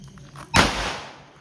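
A single firecracker bursts sharply nearby at a New Year celebration, a loud sudden crack that decays into a lingering hiss and rumble.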